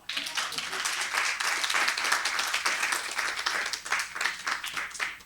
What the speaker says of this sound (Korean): 박수 안 쳐요?